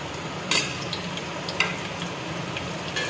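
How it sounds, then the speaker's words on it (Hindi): Onions drop into a cup of hot cooking oil and fry with a dense, even hiss, punctuated by a couple of sharper crackles and light clicks. "ये हमने 1 प्याली कुकिंग ऑयल डाल दिया। अभी इसके अंदर प्याज डाल रहे हैं।"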